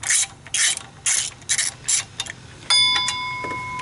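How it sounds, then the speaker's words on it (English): Ratchet wrench snugging down the cylinder head bolts on a Chevy 5.3 Vortec LS engine, with several short close ratcheting bursts followed by a sustained metallic ringing tone. "I'll start with the two outer middle bolts. snug those down."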